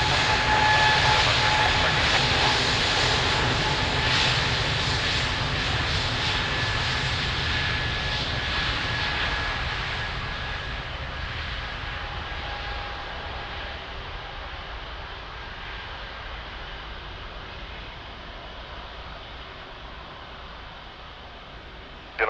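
A Portugal 735 airliner takes off from runway 02 at Lisbon Airport, a loud roaring engine rush that slowly fades as the aircraft climbs away.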